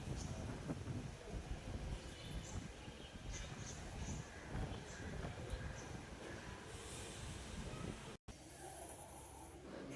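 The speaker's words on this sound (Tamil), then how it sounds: "அதுக்கேற்ற மாதிரி சூப்பராக காற்றடிக்குது." Steady broadband rushing outdoors in Bangalore, strong wind gusting close to a microphone, continuous and loud with a brief dropout near the end.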